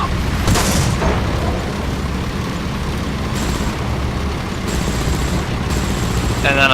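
War Thunder tank battle with booming cannon shots and rumbling explosions, steady and loud, with a sharp blast early on and a continuous roar of combat noise.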